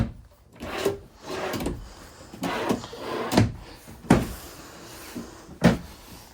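Three drawers opening and closing in the bathroom of a 2026 Alpine Avalanche 390DS fifth-wheel RV, a series of close wooden knocks, slides and thumps spread across several seconds with no talking.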